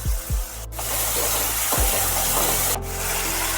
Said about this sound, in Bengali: ভালো করে একটু কষিয়ে নিতে হবে মশলাটাকে।